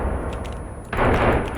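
Gunfire in the video game Sons of the Forest, a dense burst of shots that starts abruptly partway through and stays loud and continuous to the end, following a quieter stretch.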